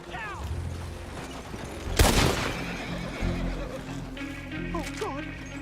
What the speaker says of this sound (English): Could you please control your horse?